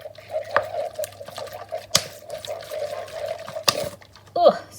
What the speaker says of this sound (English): I'm going to pour it just a little bit into the bowl